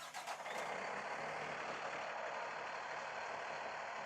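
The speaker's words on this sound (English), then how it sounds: "going to start up the engine. It fires right up. Sounds great." 2020 Freightliner M2 forestry grapple truck with a Cummins L9 diesel firing up, an opening burst that settles into a loud, steady running roar close by.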